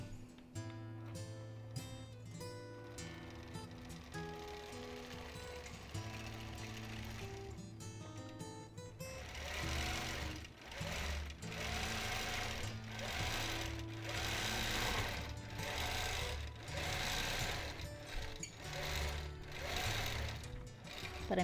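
A sewing machine stitches steadily through custom free-motion quilting, its fast needle hum and rhythmic mechanical pulses running continuously at moderate loudness, with pitch-changing machine tones near the start.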